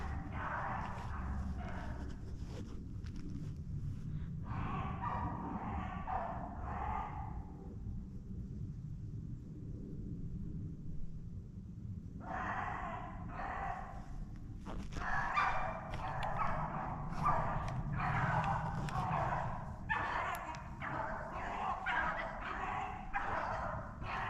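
Hunting dogs bark in bursts while chasing a rabbit along a creek in Pennsylvania, the barking coming and going from a middle distance with short pauses over steady outdoor background noise.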